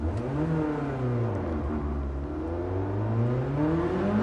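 A BMW E30 M3 inline-four revs steadily in a virtual racing lap, a continuous mid-pitched engine drone rising and falling gently, close and clear with no talking.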